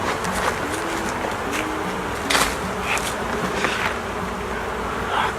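Honey bees buzz around an opened hive during an early-season inspection, a dense, wavering drone with individual bees passing close now and then, and faint handling noises underneath.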